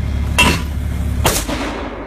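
Two heavy booms from a 120 mm mortar being fired outdoors, the first sharp blast followed about a second later by a second deep report, each trailing off into rumbling echo.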